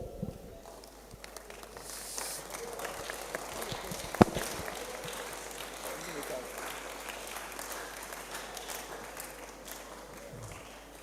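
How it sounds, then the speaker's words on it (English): Audience at a youth camp health talk applauds, steady scattered clapping from a modest group in a room, moderately faint, with one sharp louder clap near the middle. "Let's clap for him"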